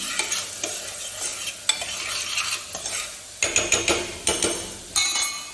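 A spoon stirs mung beans in a pan, scraping and clinking in quick repeated strokes that grow sharper and more rhythmic toward the end, over a faint sizzle.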